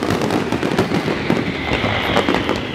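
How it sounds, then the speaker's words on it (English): Fireworks go off at dusk in Cannes, a dense, continuous crackle of pops and bursts heard from a moderate distance with no talking. "while the crazy fireworks go off behind"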